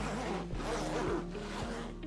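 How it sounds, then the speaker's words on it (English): Several quick plastic zipper pulls on Lululemon City Adventurer 20L backpack pockets, short raspy zips in a row, close up and fairly quiet. "I'm just gonna show you guys a quick little zipper demo"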